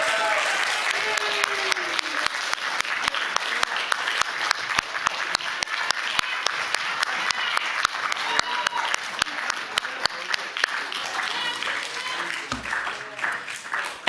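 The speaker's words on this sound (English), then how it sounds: "Another round of applause for all of our graduates." Audience applauding graduates at a graduation ceremony, a long, even burst of clapping with distinct sharp hand claps standing out near the microphone, loud and sustained before tapering off at the end.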